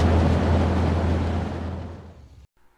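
A belt-driven radiator fan on a BMC 1800 Landcrab's 1.8-litre B-series engine gives a loud, steady broadband whoosh with a low hum underneath, fading off toward the end before cutting out abruptly.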